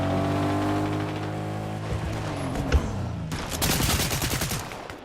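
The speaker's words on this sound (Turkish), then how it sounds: "lan bana mı sıkıyor?" Rapid video game gunfire in Fortnite Chapter 6 starts as scattered shots, then breaks into dense, loud automatic bursts over a low game background.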